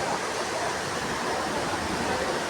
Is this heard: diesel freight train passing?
no